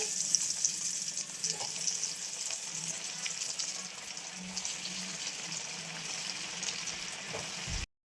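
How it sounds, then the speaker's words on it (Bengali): Fish chops made with Bombay duck fry in hot oil, giving a steady, soft sizzle that holds evenly throughout before cutting off abruptly at the end. "আবার একইভাবে দিয়ে দেবো চপগুলো তেলের মধ্যে"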